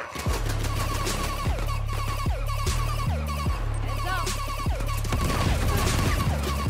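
Rapid gunfire from the video game Uncharted rattles in a dense, continuous fusillade, with overlapping bursts and sharp single shots layered over a constant low hum.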